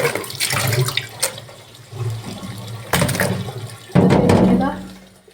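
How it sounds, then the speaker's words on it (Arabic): Cooking water from boiled head meat poured out into a sink, with several rushing, splashing bursts of running water, the last one loudest, under someone talking. "اهي خلاص هنكب المية بتاعتها."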